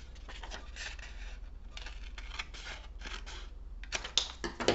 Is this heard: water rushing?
no